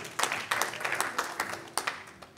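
Conference audience applauding, a burst of many hands clapping at moderate distance that stays dense and steady for a couple of seconds.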